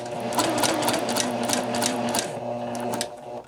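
A sewing machine stitches into a fabric corner on a straight stitch, a fast, even mechanical chatter close by that runs steadily, then slows and stops near the end.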